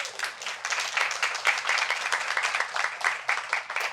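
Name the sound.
clapping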